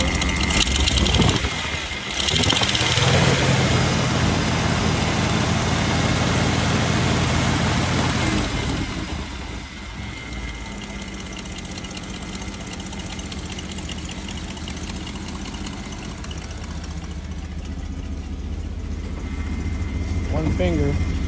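A Buick 225 engine fitted in a vintage Willys CJ2A Jeep runs close by with a steady loud drone, revving up early before settling into an even, slightly lower running note, with a voice talking over it.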